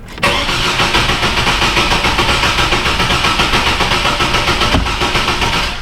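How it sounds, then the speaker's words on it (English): A car engine with one dead cylinder cranks in clear flood mode. The starter churns loud and close for several seconds in a steady, slightly uneven pulsing rhythm that never catches. "Sounded like it had a dead hole when we cranked. I'm gonna put it in clear flood mode."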